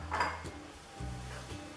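A fork stirs dry cake ingredients in a bowl: ground almonds, flour, cocoa powder, baking powder and light muscovado sugar. Two short, soft scraping strokes play close and quiet, with no talking.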